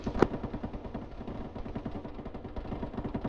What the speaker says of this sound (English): These gunshots sound really close.